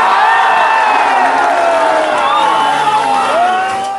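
Crowd of spectators cheering and whooping at an Onam festival mud race for vehicles, loud and close, with overlapping shouts and tonal voices rising over a continuous roar of the gathered crowd.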